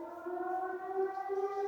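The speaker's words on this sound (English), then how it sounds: "Sounds like a siren or some sort." A wailing civil-defense-style siren sounds in the video game Trails of Cold Steel near a factory, holding a steady sustained tone with layered harmonics throughout, no speech over it.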